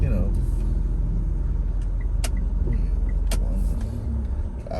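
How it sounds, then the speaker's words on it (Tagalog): Steady road traffic in Cebu City, a continuous car and engine rumble with a couple of brief sharp squeaks or brake hisses over it, close and loud throughout with a voice underneath. "traffic."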